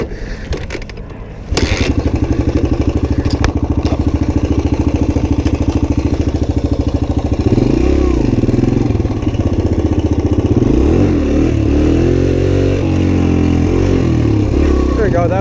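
A Suzuki DR-Z 125 pit bike engine idles steadily, then revs up and down in loud, close bursts for a wheelie, with the pitch rising and falling repeatedly.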